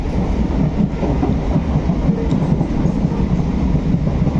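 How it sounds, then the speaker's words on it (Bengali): Inside a nearly empty Ranaghat local passenger train as it runs, a loud, steady low rumble with rhythmic wheel clatter and rattling carriage noise throughout. "তো রানাঘাট লোকাল ধরলাম"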